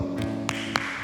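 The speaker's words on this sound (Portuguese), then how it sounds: "eu vou aplaudir." A preacher claps his hands a few times, each clap a sharp, separate slap over a steady background hum and tone.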